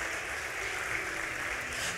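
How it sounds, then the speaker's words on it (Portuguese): A church congregation applauding in praise during a sermon, a steady, dense wash of many hands clapping that holds at an even, moderate level throughout. "Pode aplaudir a Jesus"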